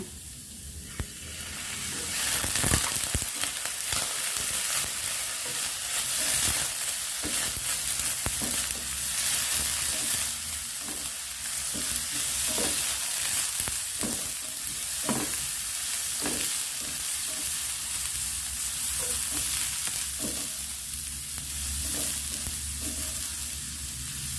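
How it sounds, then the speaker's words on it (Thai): Papaya stir-fried in a pan with a little water added, a steady close sizzle and hiss broken by repeated scraping and clacking stirs, continuous with no voices. "กอให้สุกใส่น้ำลงไปนิดหนึ่งเพื่อมะละกอจะได้สุกนะคะ"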